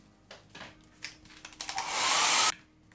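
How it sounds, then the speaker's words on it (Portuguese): A hair dryer blows on freshly painted MDF pieces laid on cardboard, starting in short bursts and then running in a loud, steady whoosh before cutting off abruptly. "vou colocar as pecinhas aqui no papelão pra eu conseguir secar com o secador."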